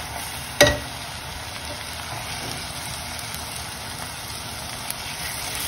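Tomatoes fry with onions in a pan for restaurant-style dal khichdi, giving a steady, soft sizzle that runs throughout, with a single sharp clunk near the start.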